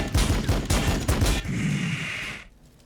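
Rapid bursts of heavy gunfire from an Invictor Warsuit in a Warhammer 40K battle game, Blood Angels against Necrons, loud and close, then a brief rumbling tail that fades out.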